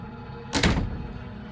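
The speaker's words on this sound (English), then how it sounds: "I heard the door." A door in the video game Slay the Princess gives a single short, sharp clunk that rises out of a dim, low ambient hum and fades quickly.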